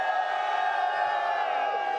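Arena crowd cheering at the Dota 2 International 11 final day, Team Secret versus Team Liquid, a continuous loud roar of many voices that stays steady throughout.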